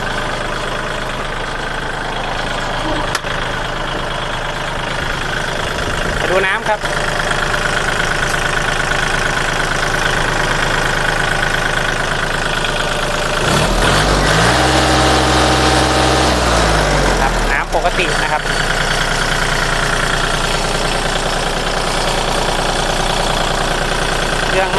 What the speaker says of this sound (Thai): เปิดเครื่องยนต์ครับ